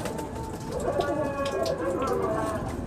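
Close pigeon coos from a Lakha breeder pair come in short, soft repeated phrases, blended with someone talking nearby.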